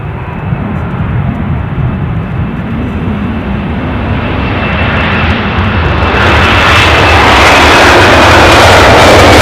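A Delta jet airliner passes at Edinburgh airport, a loud broadband engine roar that holds steady and then swells brighter and louder as the aircraft comes closest, with no talking.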